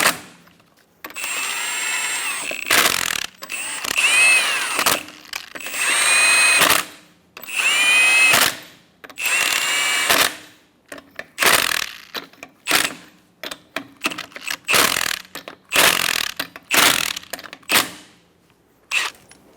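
A power tool, likely an impact driver, snugs the lug nuts on a Chevrolet Silverado 1500 rear wheel in a series of loud, close whirring bursts that start long, then turn into rapid short pulses separated by silence.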